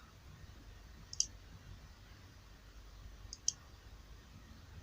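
Two sharp, isolated mouse clicks about two seconds apart, made while expanding database entries in the phpMyAdmin interface, faint against a low background hiss.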